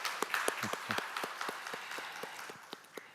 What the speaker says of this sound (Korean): 저희 환영의 박수하면 좋겠습니다